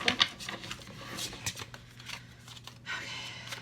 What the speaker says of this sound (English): Horrible shuffle.